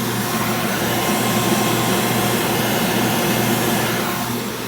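An HVAC vacuum pump evacuating a Goodman heat pump system runs with a loud, steady broadband whir and hum, unbroken for the whole stretch.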